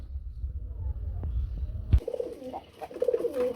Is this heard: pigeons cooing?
yes